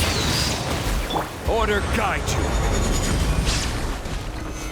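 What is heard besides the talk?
fireworks effect from a video game (Genshin Impact)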